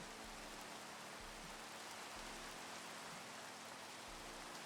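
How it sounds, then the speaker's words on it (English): Rain leaking through the center of a roof, a faint, steady wash of patter and drips with soft low thumps, constant and quiet. "There is rain coming through the center of my roof"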